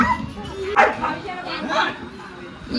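A dog at a farmhouse gives a few short yipping barks, close by, mixed in with people talking over a busy background.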